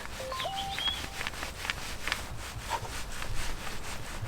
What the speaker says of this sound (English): we just gently rub it here and pull off any of that blue residue